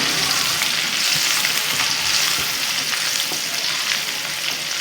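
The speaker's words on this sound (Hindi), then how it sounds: "चिली, लेमन ग्रास, एक अच्छा सा स्टर देना है इसे।" Chili and lemongrass sizzling in hot oil in a pan while being stirred, a dense continuous frying hiss with occasional scraping of the spoon, close and steady with no talking.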